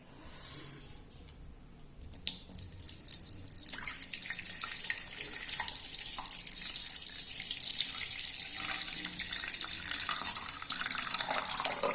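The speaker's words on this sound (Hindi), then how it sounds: "अब हम वाटर ऐड करेंगे ग्राइंडर में।" Water pours from a glass into a grinder jar while making a homemade chana sattu drink, a steady splashing stream that builds and continues close by.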